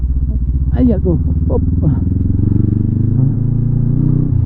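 A motorcycle rides over a rough, potholed bypass road, its engine droning steadily up close, with rattling and clattering jolts from the bumps. Someone talks over it.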